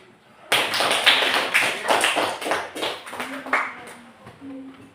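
Applause in a classroom, a burst of many hands clapping that starts abruptly, stays lively for a few seconds and then tapers off, with a teacher's voice heard near the end.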